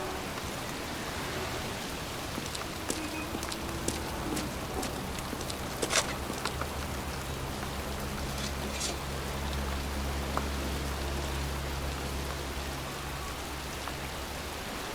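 Steady pouring rain in a cemetery in the game Heavy Rain, a constant broadband hiss with a low hum beneath and scattered sharper drip taps and a few footstep-like knocks.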